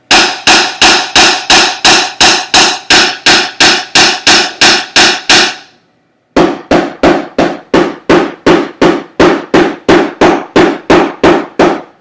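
Drum strokes played at an even legato height, first about eleven loud, evenly spaced hits, a brief pause, then a second run of about fourteen steady strokes with both hands alternating, close and dry with no talking.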